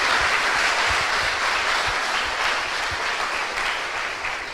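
A church congregation applauds together, a dense sustained wash of many hands clapping at once that holds steady and then fades slightly toward the end.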